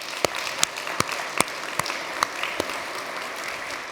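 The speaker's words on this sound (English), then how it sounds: "Let's give him a big round of applause." Scattered, sparse hand claps from a small audience at an HPE Storage conference session as a guest is invited up to the stage. The claps are irregular and isolated rather than a full ovation.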